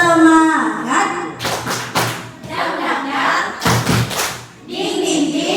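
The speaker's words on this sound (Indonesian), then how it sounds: "tepuk semangat." A school group doing a rhythmic spirit clap, bursts of sharp hand claps in quick patterned runs alternating with voices chanting along in a lively indoor room.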